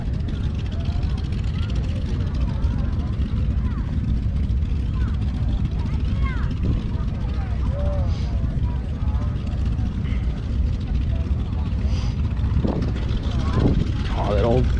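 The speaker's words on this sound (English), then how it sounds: "Some Navy planes." Navy propeller planes at the Oshkosh airshow give a continuous loud engine drone throughout, with people talking nearby over it.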